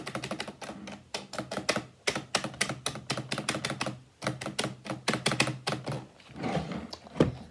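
Keys clack rapidly on a lit gaming computer keyboard, bursts of close, crisp typing in uneven runs separated by short pauses, ending with a few heavier thunks, with no talking.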